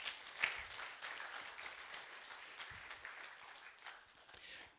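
A church congregation at a morning service claps, the applause faint and somewhat distant, with a few sharper individual claps and soft crowd murmur.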